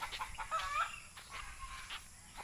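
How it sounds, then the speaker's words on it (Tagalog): Several chickens cluck and squawk in an agitated flurry, overlapping calls rising and falling at moderate distance. "Kaya nagkagulo yung mga manok doon."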